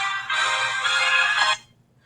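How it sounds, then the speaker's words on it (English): A mobile phone ringtone goes off during a lesson, a loud, bright electronic melody that plays for over a second and then stops abruptly, with no talk over it. "my phone went off in the middle of a video."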